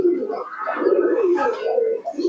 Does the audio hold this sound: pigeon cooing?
yes